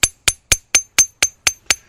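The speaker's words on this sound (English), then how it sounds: "If you hammer on one side too much, it'll bend the point into a hook." Eight sharp, evenly spaced hammer strikes ring out on a thin copper dart point being flattened to a paper-thin edge, each blow a bright metallic tap that decays quickly, loud and close with no talking.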